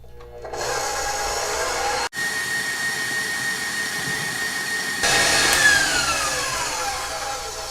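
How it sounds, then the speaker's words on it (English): Electric mixer whipping egg whites with cream of tartar on high speed, a loud continuous motor whir close by that briefly cuts out and then grows slightly louder, with no talking. "We're going to put our mixer on high speed until we start getting trails."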